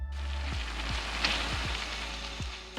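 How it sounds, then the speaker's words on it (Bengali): Cheese balls fry in a pan over medium heat until golden, giving a steady, close sizzle with occasional sharp pops of hot oil. "মিডিয়াম হিটে চিজ বলগুলো এরকম সুন্দর গোল্ডেন কালার হয়ে যাওয়া অবধি ভেজে নিতে হবে।"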